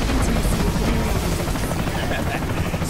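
A helicopter in the video game Bulletstorm, its steady rotor thrum and engine roar loud and continuous, with a voice talking over it.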